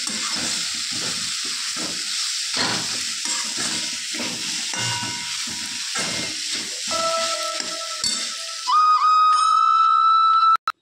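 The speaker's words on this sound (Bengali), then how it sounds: "একটু গরম মশলা দেব, দিয়ে একটু নাড়াচাড়া করে" Garam masala is stirred into a frying pan, producing soft rhythmic scrapes over a faint background sizzle, until a loud, sustained pressure-cooker-like steam whistle takes over near the end and then stops abruptly.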